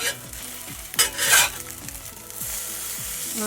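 Croissant French toast frying in a pan, a constant close sizzle with a brief louder flare near the middle, a few soft scrapes and clinks, and no voices.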